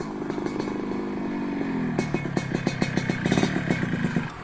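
A motorcycle engine runs nearby, first a steady drone and then sharp, rhythmic revving pops and clattering bursts that grow louder toward the end.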